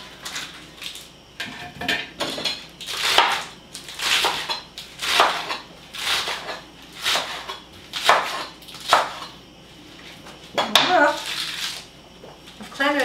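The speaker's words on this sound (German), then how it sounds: "Wir wollen es zu schneiden." Food being chopped by hand while making vegetarian gefilte fish, a steady series of regular cutting strokes roughly every half second, with some kitchen clatter and faint background voices.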